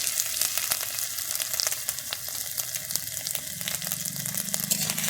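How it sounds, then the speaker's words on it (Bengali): Chopped garlic and ginger fry in hot oil for a restaurant-style crispy chana pepper salt, giving a steady, close sizzle with scattered crackles and pops throughout, no talking. "তেলটা গরম হয়ে গেছে আমি এর মধ্যে দিয়ে দিচ্ছি রসুন কুচি এরপরে দিয়ে দিচ্ছি আদা কুচি"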